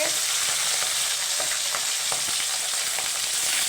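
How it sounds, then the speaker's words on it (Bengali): Half a fish head frying in hot oil for a spicy chochchori, a steady dense sizzle with small crackles and pops throughout, close and loud with no talk. "এখন আমি মাছটাকে ভেজে নিচ্ছি"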